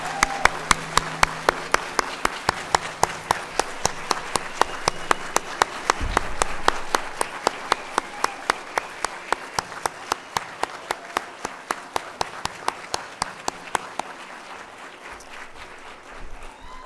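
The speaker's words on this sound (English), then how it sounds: "I'd like you all to give the kids another round of applause." Audience applause for the kids after a holiday pageant, a sustained wash of crowd clapping lasting about fifteen seconds, overlaid by a steady, regular ticking beat.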